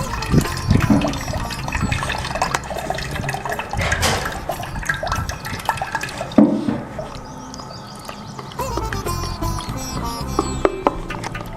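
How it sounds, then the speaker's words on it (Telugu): Tamarind juice pours and splashes into a new clay pot while Ugadi pachadi is prepared, with watery gurgling and dribbling, a few clunks of handling, and a busier splashing stretch toward the end. "ఈ పచ్చడి కుండలో చింతపండు రసం వేసుకుంటున్నాయి"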